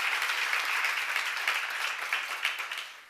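A crowd applauds steadily, a dense wash of clapping that slowly fades toward the end.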